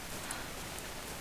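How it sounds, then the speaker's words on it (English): Steady rain falling in the survival video game ARK Survival Evolved, a soft, even hiss of drops spread across the whole moment with no talk over it. "Oh, rain."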